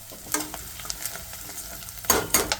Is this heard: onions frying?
yes